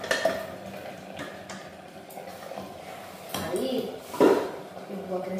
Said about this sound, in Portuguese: Eu coloco aqui na outra panela.